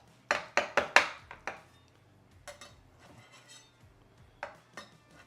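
A utensil cuts into a pan of baked spaghetti, giving a quick run of sharp metallic scrapes and clinks against the pan, then quieter scraping and a few later taps, with no talking.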